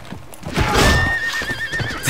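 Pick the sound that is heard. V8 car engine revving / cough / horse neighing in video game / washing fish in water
horse neighing in video game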